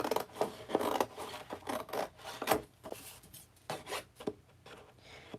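Scissors snip through rough paper while beaver shapes are cut out, a close series of irregular crisp cuts and rustles with short pauses between strokes.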